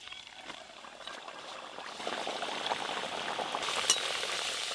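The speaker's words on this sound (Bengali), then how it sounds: "আবার একটা খাস্তা কচুরি ভাজা হয়ে গেল" Khasta dal kachori frying in hot oil, a steady soft sizzle and bubbling that grows slightly louder partway through, with a faint splash or crackle near the end and no talking.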